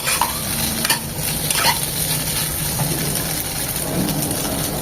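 Capsicum fries in a pan, giving a steady hiss of hot oil. Several scraping stirs of a spatula sound close by.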